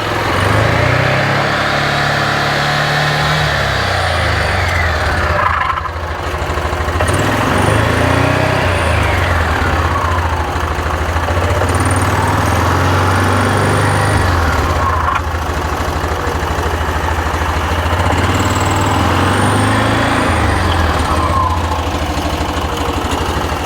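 Engine of a 2021 Axis 500 UTV, which has a grinding noise on deceleration, revved in neutral: the pitch repeatedly rises and falls back toward idle in several loud, close surges, with no voices.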